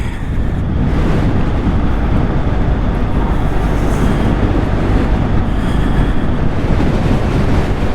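A motorcycle climbing the hill roads of Danseys Pass, heard as a steady, close roar of engine and rushing wind that never lets up.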